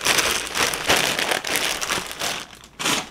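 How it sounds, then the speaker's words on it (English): Close, loud crinkling of plastic packaging, bursts of crackly rustling coming and going in uneven waves over a few seconds, no voices. "I know some of you guys don't mind the crinkling noise at all"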